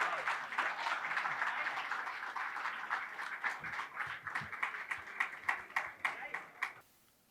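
An audience at a mushaira in Mumbai welcomes the poet Mehshar Afridi with a dense wash of applause that thins into separate claps before stopping abruptly.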